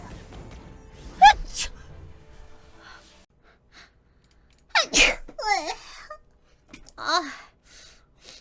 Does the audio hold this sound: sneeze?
yes